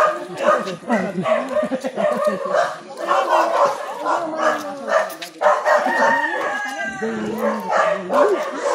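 Several dogs bark and yelp in overlapping bursts, fairly close and loud, with a rooster-like crow mixed in.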